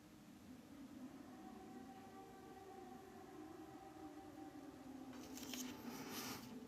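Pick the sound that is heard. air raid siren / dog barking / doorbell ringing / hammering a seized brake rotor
air raid siren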